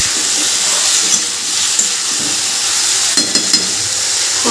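Spiced jackfruit sizzles in a frying pan as it is stirred, a dense close hiss with light spoon scrapes and soft knocks against the pan.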